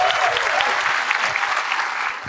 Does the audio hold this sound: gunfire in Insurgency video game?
no